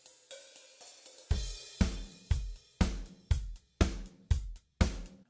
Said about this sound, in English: Here I have some drums and the overhead microphones.